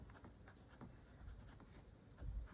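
Medium-nib Lamy Studio fountain pen in olive green scratching softly across paper, a faint, close stroke-by-stroke writing sound with light friction and no voices.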